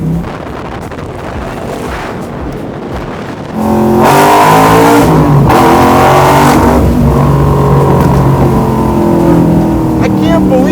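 A 750 hp supercharged Chevy Blazer on a full custom chassis, roughly 5,000 pounds, idles roughly and then roars into loud, sustained revving and acceleration that stays close and dominant, with people talking over the start.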